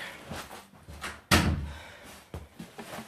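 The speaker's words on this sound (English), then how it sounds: "I'm going to close the door." A room door is pushed shut with one loud thud midway, preceded and followed by softer handling knocks and rattles, close and indoors.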